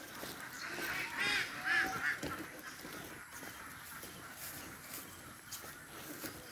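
Muscovy ducks on a small Philippine backyard farm give a few faint, scattered honking calls amid distant outdoor background noise, soft and irregular with no talking.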